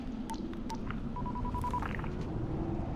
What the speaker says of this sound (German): So, dann telefonieren wir erstmal.